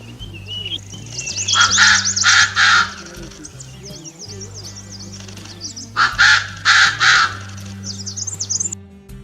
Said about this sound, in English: call of these pheasants, from which their name is derived, is a distinguishing feature